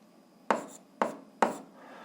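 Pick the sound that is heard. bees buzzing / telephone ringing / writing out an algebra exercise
writing out an algebra exercise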